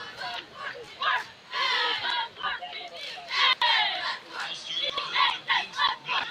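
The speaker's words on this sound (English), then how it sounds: "a big shout out to the Malakoff cheerleaders. That was a really cool chant." Malakoff cheerleaders shout a rhythmic chant at a high school football game, bursts of many voices rising and falling in loud repeated phrases against crowd noise in the stands.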